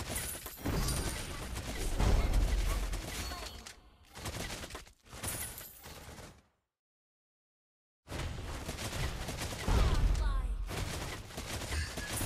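Rapid bursts of gunfire in the Mobile Legends: Bang Bang mobile game, loud rattling volleys amid game effects and music, broken by a few seconds of complete silence before the firing resumes.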